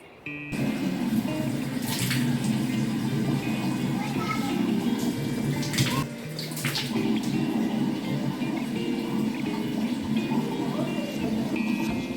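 Running water from a tap or shower rinses a face and body mask off skin in a bathroom, a steady close splashing rush with brief shifts in flow and occasional handling knocks.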